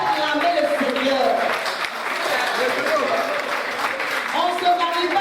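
Wedding congregation applauding and cheering the Lord in a church, a steady dense wash of clapping mixed with voices and shouts throughout.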